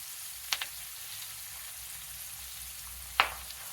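Chopped onion and green chilli fry in hot oil with a faint, steady sizzle, broken by two sharp pops of spitting oil.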